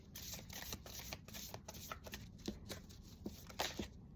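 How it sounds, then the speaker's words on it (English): A Rose Oracle card deck is shuffled up close, a steady run of crisp riffling and flicking card sounds with soft slaps and no talking. "we are going to be pulling from the Rose Oracle card deck today"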